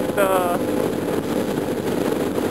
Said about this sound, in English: all this wind noise and engine noise